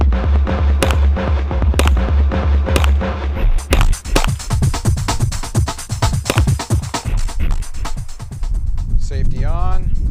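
A TNW Aero Survival Rifle fires a series of sharp, loud gunshots outdoors, single cracks at first, then a quicker irregular string of shots, with people talking between them.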